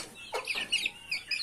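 Chickens cluck close by, including a black young rooster chick, in a brief burst of several short, high clucks and chirps with no talking.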